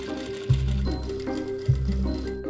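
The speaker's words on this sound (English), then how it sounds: "we need to sew all the way down here." Sewing machine stitching down the side of a fabric face covering, a steady mechanical whirr running throughout with two brief louder bursts as stitching speeds up.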